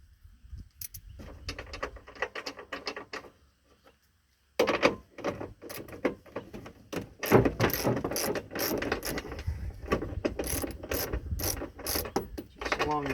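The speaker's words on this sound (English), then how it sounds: "we're going to grab our ratchet, and there's 2 nuts on each side here, and we're going to loosen that assembly" A hand ratchet loosens two nuts on an assembly during the setup of an Alamo unit, making rapid clicking runs close by, pausing briefly midway and then resuming in quick repeated bursts, with no talk.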